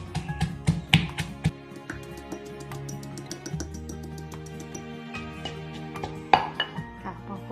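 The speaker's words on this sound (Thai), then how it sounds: "แล้วก็ใส่รากผักชีลงไปค่ะ แล้วก็กระเทียมที่เราเตรียมไว้ค่ะ แล้วก็โขลกให้เข้ากันค่ะ" Coriander root and garlic pounded with salt in a mortar for a Thai fish-sauce dip, giving sharp irregular knocks and taps, with clusters of hard hits at the start and end and softer strikes between.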